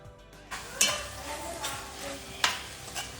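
Green chilies and tomatoes frying in a pan: a soft, steady sizzle with a few scraping stirs of a spoon against the pan, fairly close and quiet, no speech.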